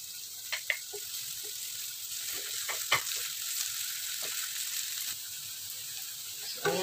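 Onion and garlic fry in oil for kare-kare, making a steady soft sizzle broken by scattered clicks and scrapes of a stirring utensil against the pan.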